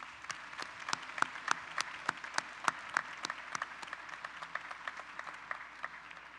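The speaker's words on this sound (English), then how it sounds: "Please join me in giving them a round of applause on this very special night." An audience at a college commencement ceremony applauds steadily, many hands clapping in a dense, continuous patter at moderate distance, with no voices.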